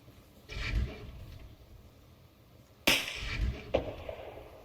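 Two sharp sniper gunshots in the video game Arma Reforger crack out a couple of seconds apart, each with a short echoing tail, over a quiet low background hum.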